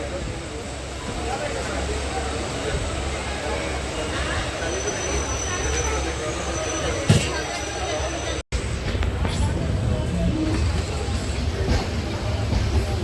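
A train pulls into Agra Fort railway station with a continuous heavy rumble and rolling noise, a brief sharp clack midway, as people talk over the din.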